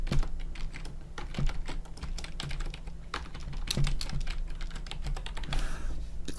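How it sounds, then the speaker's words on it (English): Typing on a computer keyboard while setting up a Revit project: close, crisp key clicks in irregular runs and pauses, moderately loud, with no voices. "we'll just type my brother's name, Umair"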